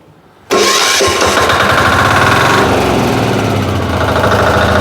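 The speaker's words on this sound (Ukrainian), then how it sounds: "Завели мотоблочка." Motor Sich walk-behind tractor fitted with a rotary tiller starts abruptly after a brief quiet moment, then runs loud and close with a steady, throbbing engine drone.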